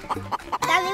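A few quick, throaty clucks in a row, then a longer drawn-out squawking cluck, close and fairly clear.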